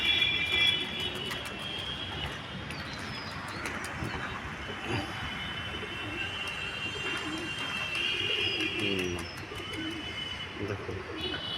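Pigeons coo softly in a loft, repeated low throaty calls rising and falling under a steady wash of background noise, with occasional fluttery clicks.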